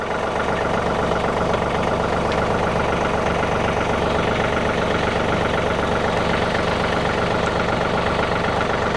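A John Deere tractor engine idles nearby in a steady, loud, unbroken chug that holds an even rhythm throughout, with no one speaking over it.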